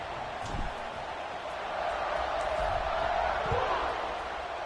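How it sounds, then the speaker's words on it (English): Steady swell of a stadium crowd cheering at a Washington vs Nebraska college football video game kickoff, a broad, even roar rising slightly midway with faint low thumps. "and this crowd now ready to get behind them."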